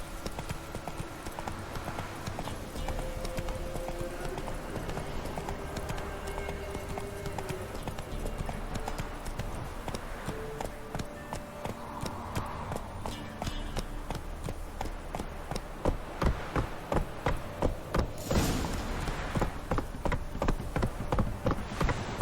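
Hooves clatter in a fast, rhythmic gallop as the horse Roach runs in The Witcher 3: Wild Hunt, steady and close over game music and ambience, growing sharper and more pronounced toward the end.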